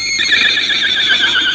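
A horse whinnies on a 1985 studio comedy show: one loud, drawn-out, quavering neigh, close and clear, with no voices.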